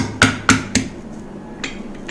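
Garlic cloves with their skins on being pounded, three sharp knocks in quick succession close by, followed by a few fainter taps.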